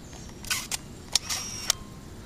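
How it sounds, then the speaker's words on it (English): A Nikon One Touch L35AF2 compact film camera's motor winder fires in several short, sharp whirring bursts with clicks, close and fairly quiet against a soft background, and no one speaks. "But that winder is noisy as anything."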